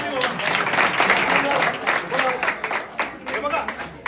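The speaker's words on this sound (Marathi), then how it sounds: "हे टाळी मारा आबांसाठी" Audience clapping at a Shimga folk performance in Kankavli, a dense run of hand claps mixed with crowd voices throughout, fairly loud and close.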